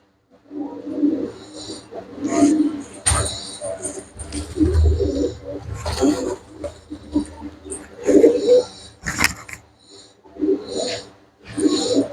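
Pigeons of a pure-bred Punjabi fancy line coo in repeated soft low bursts at close range, with scattered rustling and brief higher calls between them and no talk.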